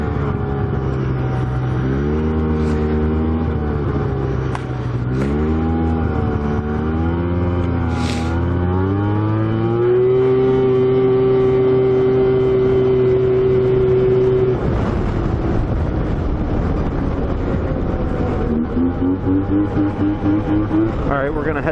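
Yamaha Viper snowmobile engine running steadily while riding through a snowy Wisconsin winter setting, loud and close, with pitch rising and falling as the throttle changes and a long held high whine partway through.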